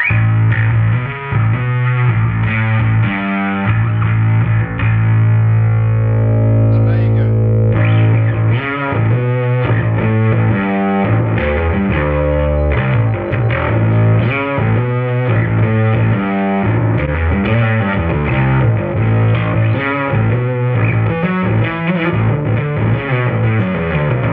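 Electric bass runs fully through a Darkglass Alpha Omega distortion pedal with the blend set to all distortion and no clean signal, a loud, continuous gritty riff of sustained and rhythmic notes played alone.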